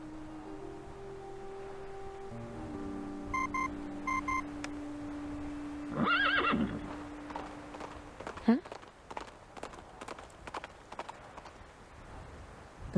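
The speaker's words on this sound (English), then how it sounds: "Communicator's noise startled the nibbling horse and it lifted his head and bowed into the distance." Horse sounds in the video game Reverse: 1999, with a short high whinny around the middle following electronic communicator beeps, amid faint hoof clops and soft game ambience; a voice talks over parts of it.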